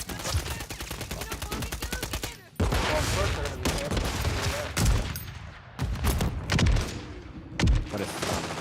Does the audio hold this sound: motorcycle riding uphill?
no